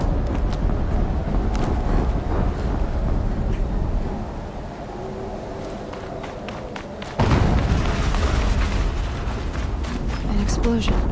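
A deep explosion in Horizon Zero Dawn erupts suddenly partway through, a loud broad rumble that holds and settles, following a quieter stretch with a voice talking over the game sound.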